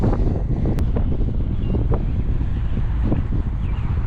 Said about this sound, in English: Oh, it's windy, it's windy.